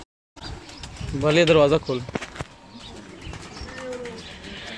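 Pigeons kept by a fancier coo in low warbling phrases close by, with clicks and handling sounds around them and someone speaking briefly.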